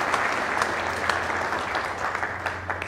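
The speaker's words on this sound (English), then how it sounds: "Give yourselves a round of applause." Steady, full clapping from a church congregation at a Palm Sunday worship service, a dense wash of many hands at moderate distance, with no talking over it.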